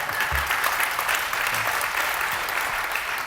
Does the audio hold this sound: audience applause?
yes